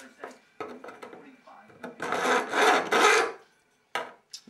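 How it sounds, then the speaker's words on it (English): File scraped down the edge of a wooden piece, several close rasping strokes of varying length, the strongest bursts in the middle, separated by short pauses and lighter scuffs. "Run a file down the edge."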